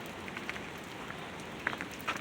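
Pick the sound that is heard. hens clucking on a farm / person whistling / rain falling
rain falling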